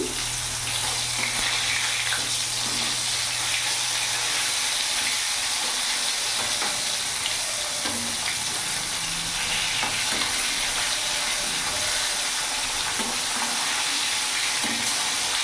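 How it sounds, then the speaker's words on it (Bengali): Pieces of rohu fish fry steadily in hot oil on medium heat, turned partway, giving a continuous loud sizzle with some crackle and occasional stirring clatter. "এইভাবে লাল লাল করে ভেজে নেব।"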